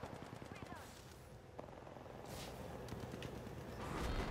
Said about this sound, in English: I'm getting shot in the back, teammate!